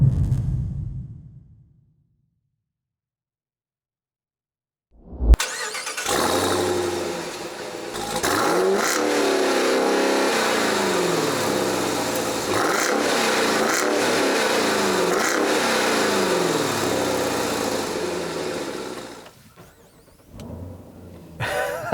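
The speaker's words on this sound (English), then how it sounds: "we've got 707 horsepower from the Hellcat V8 with all-wheel drive" A 2018 Jeep Grand Cherokee TrackHawk with its 707-horsepower Hellcat V8 fires up after a brief silence with a sharp burst, then holds a loud, rumbling, throbbing idle with repeated blips of revs for about fifteen seconds before easing off.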